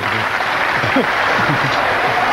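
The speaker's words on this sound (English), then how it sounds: "you always know there's going to be a clap on the 100" Audience applause for a century break at a snooker match in the LG Cup, steady and continuous with a low murmur of voices underneath throughout.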